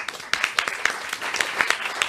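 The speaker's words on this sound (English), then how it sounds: "Please welcome them with a round of applause." Audience applause welcoming guests onto a talk show panel about EU plastic recycling, a brief scattering of clapping from a modest crowd, moderately loud with distinct individual claps.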